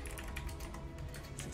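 Rapid, steady clicking of keys on a computer keyboard, a dense run of light taps with no pauses, heard fairly faintly.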